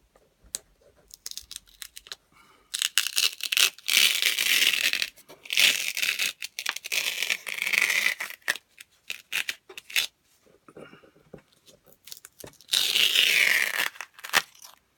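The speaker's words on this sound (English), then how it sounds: "we're going to take the tape off of this tree" Masking tape peeled in several bursts off a beginner's acrylic painting of an autumn oak tree, close, crackly ripping strips separated by short pauses.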